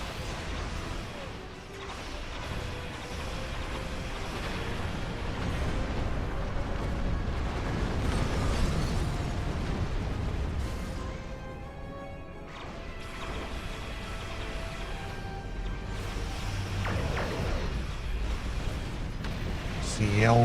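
Torpedo explosions in Star Trek Online crash and rumble repeatedly over a steady combat din, heavy impacts rising and falling in waves with someone talking intermittently over the battle.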